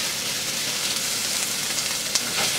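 Onions sizzling in a pan, a continuous close, bright crackling sizzle with no talk.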